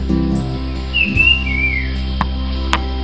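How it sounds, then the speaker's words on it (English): A bird calls near a quartz cottage in the morning, giving a clear whistled phrase in a gliding, descending pattern over a steady background hum, with a few faint clicks afterward. "That's a bird."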